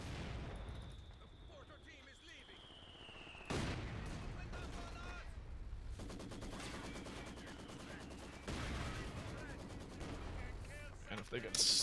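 Artillery and gunfire crash through a multiplayer war game battle, with repeated loud bursts and sustained rattling volleys set against a background hum, while players talk over the fighting.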